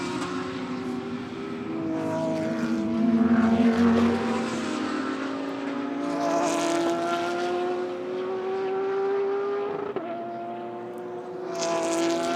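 A GT race car engine is heard from an onboard camera at Oschersleben, a continuous loud roar that rises and falls in pitch as the car shifts through gears and brakes into corners.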